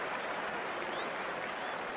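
A cricket crowd roars and cheers after a batsman hits a six in a Pakistan versus England match, a dense, steady wall of applause and shouting that holds at full level throughout.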